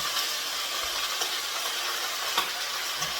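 Spinach sautéing in a pan gives off a continuous hissing sizzle, close and even, with a few faint clicks and no voices.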